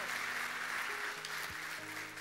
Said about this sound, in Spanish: Si le vamos a aplaudir al Rey, yo le aplaudo con todo